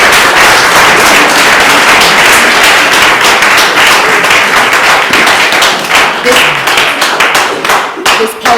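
An audience at a poetry showcase at Clifton Litfest 2022 breaks into loud, close applause after a poem. The clapping is dense and sustained, then thins into scattered claps near the end.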